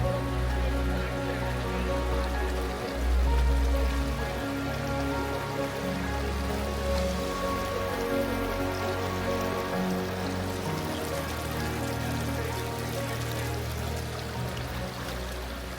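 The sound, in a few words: strong river current near High Force waterfall, Teesdale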